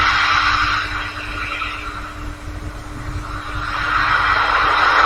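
An Electron rocket launch roars as a broad, continuous rumble that swells and fades, loud and distant, with no speech.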